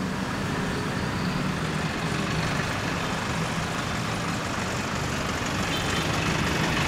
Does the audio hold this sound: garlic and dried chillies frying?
no